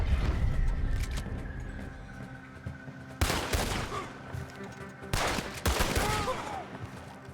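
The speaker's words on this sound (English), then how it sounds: "trying to shoot his gun out of his hand" Red Dead Redemption 2 gunfire: two sharp, loud bursts of shots ring out a couple of seconds apart over a murky game ambience, each trailing off with rattling decay.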